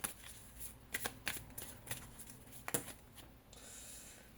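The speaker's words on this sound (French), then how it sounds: "Je remélange malgré tout." A deck of tarot cards is shuffled close by, giving quick riffling bursts and soft snaps in an irregular rhythm, quiet overall, ending in a faint hiss.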